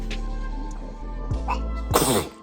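A single sharp sneeze bursts out near the end, close and loud, after a brief breathy intake.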